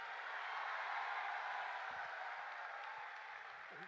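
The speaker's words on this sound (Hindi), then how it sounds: "इनके लिए तेज तालियां" Distant, soft applause from an audience at a live talk, a continuous hiss-like patter of many hands clapping that stays fairly even and fades slightly toward the end.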